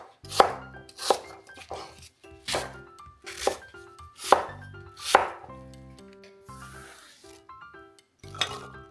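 A knife chops through an unpeeled apple on a cutting board in a series of crisp, separate thunks with short gaps between them, close and fairly quiet with no talking.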